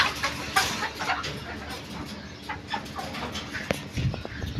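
Farmyard chickens kept for eggs cluck close by, a busy stream of short clucks and calls over a low background, with faint talk now and then.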